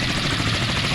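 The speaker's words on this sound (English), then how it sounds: "bring that helo forward" Helicopter flying in the Sea Power naval warfare game, a steady broadband rotor and engine roar with a faint low throb, continuous and close, with no talk over it.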